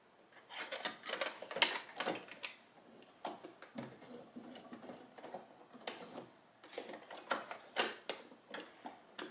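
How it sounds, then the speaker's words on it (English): A sewing machine stitches a sublimated photo blanket in quick, uneven bursts of mechanical ticking and clatter, close and fairly quiet, with brief pauses between runs. "And then we're going to keep sewing."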